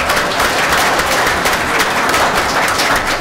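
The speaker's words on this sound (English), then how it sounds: "Please give them one more round of applause." Audience applause for volunteers at the CROA annual meeting, a loud, dense, continuous clatter of many hands sustained evenly throughout.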